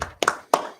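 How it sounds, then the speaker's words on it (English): Hands clap sharply and close by in a congregation, three or four quick, crisp claps in uneven rhythm. "clap it up"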